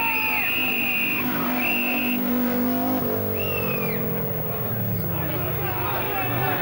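A Renault 11 Turbo rally car skids back onto the road as its tyres squeal sharply in bursts and the engine revs hard, with a commentator talking over it.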